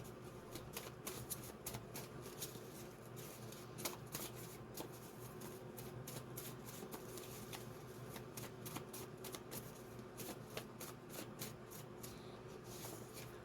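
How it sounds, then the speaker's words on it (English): A deck of pick-a-card reading cards is shuffled steadily for several seconds, giving a soft, continuous riffling and flicking with small irregular snaps, close and quiet, with no talking. "every time I shuffle the deck, it feels like a card is going to flip"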